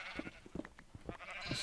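Sheep in the Minecraft video game bleat several times in short, quiet calls, interspersed with small in-game clicks and rustles.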